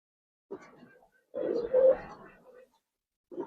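Giribaz racer pigeons coo nearby in a few soft, throaty phrases, one brief call, then a longer rolling coo, and another starting at the end, with quiet gaps between.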